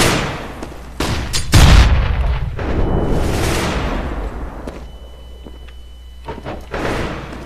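A flashbang goes off in the shooter game CS:GO, a loud, close burst with a heavy low thump, followed by a lingering ringing tone and scattered sharp gunshot-like cracks.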